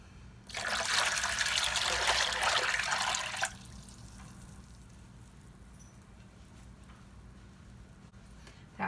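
Water pours steadily into a punch slush mixture for about three seconds, a loud close rushing splash that stops abruptly, followed by quiet room tone.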